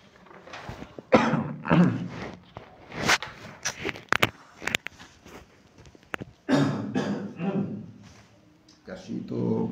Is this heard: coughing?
yes